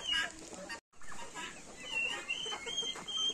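White Marans hens cluck and chatter steadily in a busy flock, with a brief silent gap near the start and sharper calls rising now and then.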